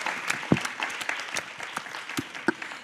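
Scattered applause from an audience at a French talk-show panel on female musicians, writers and directors, with sparse individual claps of varied loudness rather than a dense ovation, running about three seconds.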